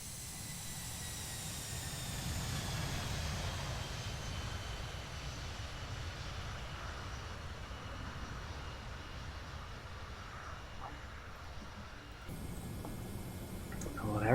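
A Boeing 717 flies past in Flight Simulator X, a steady broad engine roar and whine that slowly falls in pitch as it passes, moderately loud and continuous, with a sharp change near the end.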